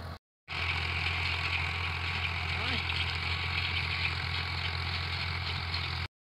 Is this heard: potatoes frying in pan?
no